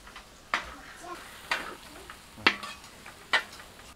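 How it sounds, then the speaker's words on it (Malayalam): Chili and coriander powders are stirred in a large pan for a 10 kg prawn biryani: four evenly spaced metal scrapes of the ladle over a faint, steady sizzle. "നന്നായിട്ട് ഇളക്കി കൊടുക്കണം"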